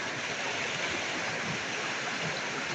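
Water of Kral waterfall tumbles down a mountain slope in a steady, close, full rushing roar with faint gurgling, holding constant throughout with no speech.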